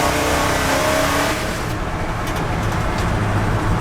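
1971 Chevy truck engine revving hard during a burnout, a loud sustained roar heard close up that eases slightly partway through, with no voices.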